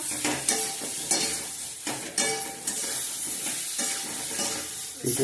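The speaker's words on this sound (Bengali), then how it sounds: "একটু হলুদ নুন দিয়ে একটু ভেজে নিই" Salt and turmeric fry in a hot pan while being stirred, a loud close sizzle broken by repeated scraping stirs of a spoon against the pan every second or so.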